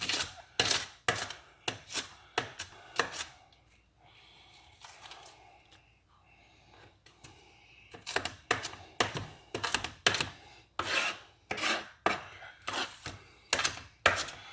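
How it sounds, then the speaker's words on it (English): A knife chops onion into a fine mince on a board in quick, close, rhythmic bursts of sharp taps, with a quieter pause midway before the chopping resumes. "Slice it all again. And you'll get some nice minced onion."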